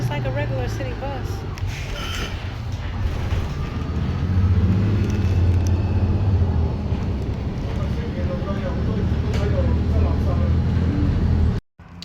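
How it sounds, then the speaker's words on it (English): A Los Angeles public transportation city bus rumbles loudly from inside during a ride, a steady low engine and road roar with voices talking over it, cutting off abruptly at the end. "first time on a Los Angeles public transportation bus"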